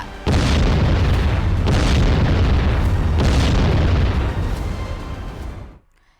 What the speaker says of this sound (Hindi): ईरान की मिसाइलें एक बार फिर इजराइल में आग बरसा रही हैं।